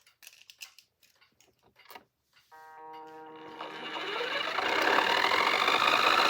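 A motorized Beyblade stadium plate spinning left: after a few light clicks and taps, a motor whirs up with a rising tonal whine and builds into a loud, steady buzzing rattle.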